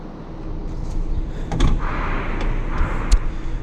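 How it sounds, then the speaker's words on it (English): The tailgate of a 2023 Audi A5 Sportback swings shut. A low mechanical hum and rustle build to a solid thunk, and a second, sharper latch knock follows near the end, heard close with no talking. "Before we do that, close the tailgate."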